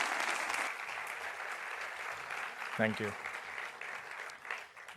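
An audience applauds steadily throughout for a speaker at a university lecture event, a continuous wash of clapping from a crowd, with a brief spoken thanks near the end.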